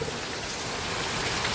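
Heavy rain pours down in a steady, dense hiss of drops striking surfaces, loud and continuous with no voices.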